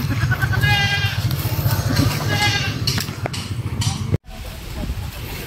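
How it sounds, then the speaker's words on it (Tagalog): Goats bleat several times in wavering cries, with people talking nearby and a brief dropout near the end. "2 kambing binili namin"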